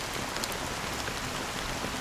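Rain falls steadily in the video game Honkai Star Rail, a dense, even hiss of drops on surfaces with no break or change in intensity, heard alone without voices.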